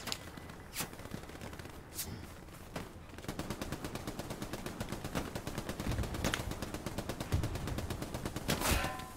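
Rapid, sustained machine gun fire from the WWII shooter game Hell Let Loose. Dense bursts of automatic shots rattle on steadily and grow louder across the clip, with a few sharper single cracks standing out.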